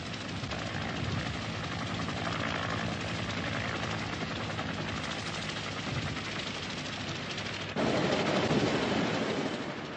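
Helicopter flying during the Vietnam War evacuation: a continuous loud rotor and engine roar with rapid chopping pulses that holds steady throughout and swells slightly near the end.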